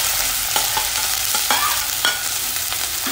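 Finely chopped capsicum sizzles in hot oil on a tava for a cheese corn sandwich, a steady close frying hiss broken by several sharp spoon-scrape stirs, with no voices.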